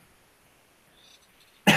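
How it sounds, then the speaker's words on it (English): A single sharp cough from a person who is ill bursts out at the very end after near silence. "I might cough."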